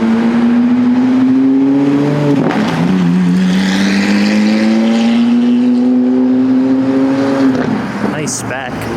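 A Lamborghini Aventador SVJ on a Tokyo street revs hard, its loud engine pitch rising, dipping and climbing again in long sweeping pulls before easing off near the end, with voices faintly in the background.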